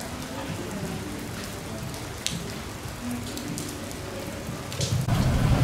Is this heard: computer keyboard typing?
no